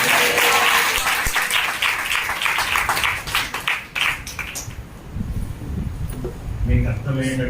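Church audience clapping hands at a gospel gathering, a broad wash of applause that swells and fades over several seconds, with a voice speaking over it toward the end.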